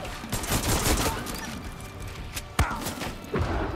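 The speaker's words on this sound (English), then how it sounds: "He shot me through the bench" Gunfire from Far Cry 6 in the Joseph Seed Collapse DLC: dense, continuous bursts of shots with thumps and a sharp crack near the end, loud and close throughout.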